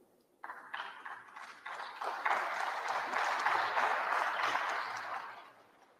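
The audience at President Rodrigo Duterte's 2020 State of the Nation Address claps, starting with scattered claps and building into sustained, fairly distant applause that eases off at the end.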